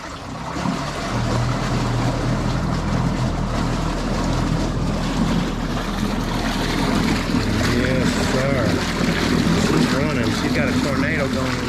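A Minn Kota Ultrex trolling motor running at full power during assembly testing gives a loud, continuous motor drone with a steady low hum, while a person talks over it.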